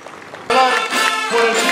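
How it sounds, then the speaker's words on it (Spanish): Applause at a celebration of a hospital's 43rd anniversary in Chancay, rising suddenly and holding as a dense patter from a gathered crowd, with voices mixed in. "a quien voy a pedir un viva y fuerte aplauso"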